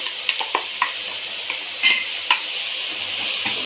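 Mixed vegetables and drumstick leaves stirred in a frying pan, with a steady sizzle and repeated scraping clinks of the spoon against the pan, close and clear.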